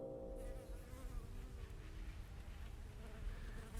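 Bees buzz faintly in a sunny greenhouse high tunnel, a soft continuous drone as the insects drift around nearby.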